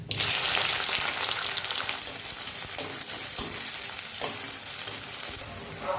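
Chopped onion hits hot oil in a wok already tempered with cumin, bay leaf and dried chilli, giving a loud burst of sizzling that settles into a steady frying crackle with occasional stirring scrapes.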